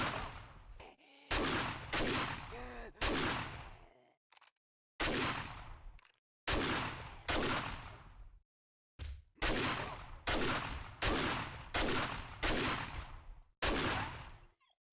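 Repeated gunshots in the zombie survival game 7 Days To Die, fired in loud close bursts of several rapid shots separated by short pauses, alone without talk.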